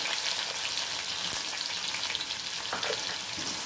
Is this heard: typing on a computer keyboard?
no